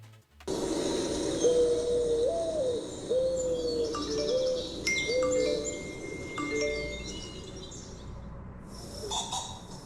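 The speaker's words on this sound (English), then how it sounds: "the system listens for every bird sound coming from its surrounding" Birds calling around a backyard birdhouse with a feeder, a series of tonal hooting calls repeated at a moderate distance over steady outdoor background noise, joined by fainter higher chirps.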